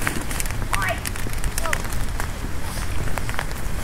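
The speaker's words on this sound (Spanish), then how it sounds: "Nos coge la lluvia, amigos, nos coge la lluvia." Rain falls outdoors in Ecuador with a dense, steady patter over scattered knocks and thuds, fairly loud and close, while a person talks over it.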